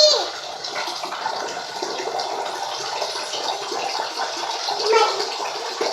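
Water runs steadily into a container, a continuous close rushing pour with a small swell in level near the end.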